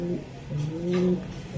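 Racing pigeons coo softly in their loft, a couple of low throaty coos close by in a quiet room.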